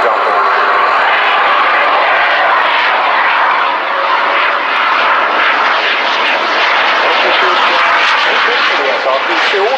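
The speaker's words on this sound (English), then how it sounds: "The aircraft currently flying at about 110 knots and speed across the ground to a very slight headwind" A large aircraft flies past at the 2018 RIAT air show at Fairford, a loud, continuous engine roar filling the whole moment while a commentator speaks over it.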